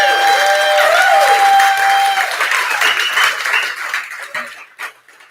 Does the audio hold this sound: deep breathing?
no